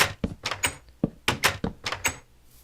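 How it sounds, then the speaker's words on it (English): Minecraft trap doors on a barn being placed and flipped open and shut in a video game, a quick irregular series of about nine crisp wooden clacks and thunks with short pauses between them, no voices. "I wanted to put these trap doors"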